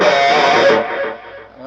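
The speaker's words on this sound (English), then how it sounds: "when you have heavy distortion compiled with heavy delay, you can get a really nice clean squawk virtually anywhere" A guitar squawk through heavy distortion and heavy delay rings out loud and sustained, a bright buzzing tone that holds and then fades slowly as the delay trails off.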